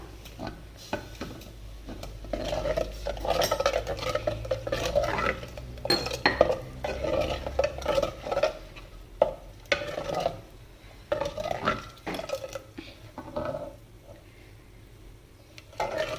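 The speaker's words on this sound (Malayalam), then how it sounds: "നല്ലതുപോലെ ഇളക്കാം" A spoon or spatula stirs potato thoran, a Kerala-style potato and coconut dish, in a metal pan, making steady scraping and clinking strokes that come close and fairly loud, with some soft sizzling underneath and no talking.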